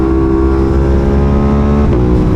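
A motorcycle engine hums loud and steady while riding, holding a constant rev with a slight shift near the end, no voices.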